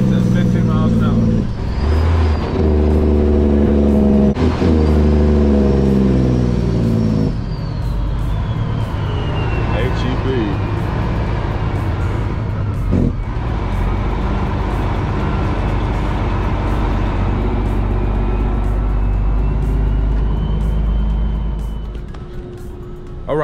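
A truck drives along a Texas road, its engine droning loud and close with a shifting low rumble, gear changes and a hiss of brakes, while someone talks over it throughout.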